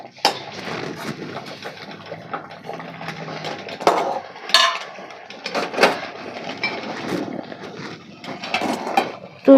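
Semolina (rava) being stirred in a pan for a breakfast dish, with irregular scraping and clanking of the spoon against metal, close and fairly loud, no talking.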